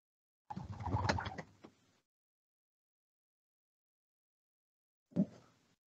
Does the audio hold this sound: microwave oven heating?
no